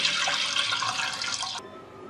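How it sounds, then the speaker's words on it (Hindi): Milk poured into a cooking pot for vermicelli kheer, a steady close splashing liquid stream that cuts off abruptly near the end, leaving a quiet hum. "सबसे पहले हम दूध को देचकी में डालेंगे"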